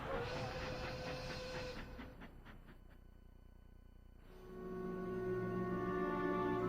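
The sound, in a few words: train whistling and departing in Color of War video game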